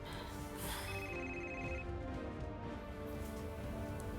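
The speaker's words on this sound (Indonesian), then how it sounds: "Jakir telepon mama." A telephone ringing in a home, a steady electronic ring tone heard alone at moderate volume over low background noise.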